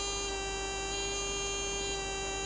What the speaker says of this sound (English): You'll hear our tone timer changing the tone as the points open and close